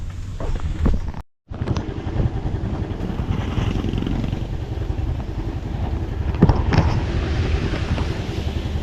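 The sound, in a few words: motorcycle ride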